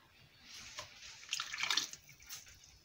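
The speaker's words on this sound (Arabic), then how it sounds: "غادي نزيد عليها الزيت" Oil poured from a container onto butter in a bowl while making dough, a faint trickling splash that swells briefly in the middle then fades, quiet and close.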